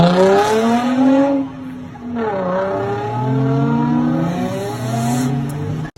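A straight-piped Nissan VQ engine revs hard and loud, climbing and falling through repeated rising sweeps with a raspy, buzzing exhaust note, briefly dropping off before revving again.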